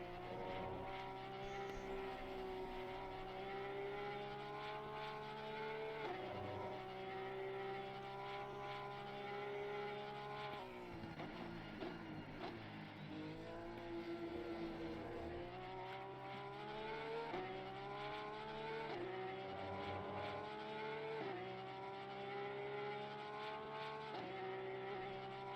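A Porsche race car's engine roars from an onboard view in a sim racing game at the Kyalami circuit, droning steadily and climbing in pitch through repeated gear changes, with a rival car's engine faintly alongside.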